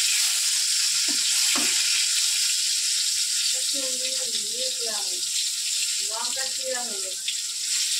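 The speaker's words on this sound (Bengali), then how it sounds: "মাছ ভাজার পর বেগুনগুলোকে ভেজে নেব সুন্দর করে, লাল লাল করে।" Eggplant slices frying in oil until reddish-brown, after fish was fried, giving a steady loud sizzle throughout with a few light utensil touches; bits of faint voice-like sound occur midway.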